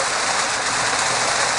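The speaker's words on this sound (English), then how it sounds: "You can't see shit out here when it rains" Heavy Florida rain pours down around a car while driving, a dense steady hiss of water drumming and spraying with no pauses, loud and close.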